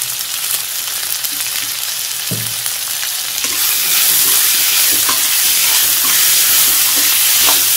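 Capsicum and rice sautéing in a pan, a loud, steady sizzle that swells after a few seconds, with soft spoon stirring scrapes throughout.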